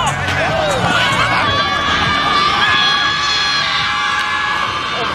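Crowd at a youth football game cheering and shouting, with excited children's yells and whoops forming a loud, continuous roar close by, mixed with overlapping voices.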